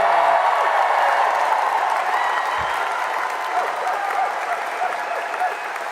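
A rally crowd in Maine, at a major political rally led by Bernie Sanders, applauds in a steady, sustained wave of clapping with some cheering mixed in, loud and full from start to finish.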